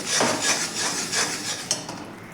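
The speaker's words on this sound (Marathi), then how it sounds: "हे व्यवस्थित आपण गुळाच्या गाठी आहेत त्या फोडून घेऊयात" Lumps of jaggery being broken up in a pan on a low gas flame while making til-gul laddoos, heard as repeated scraping and rubbing strokes of a utensil against the pan, with one sharper knock near the end.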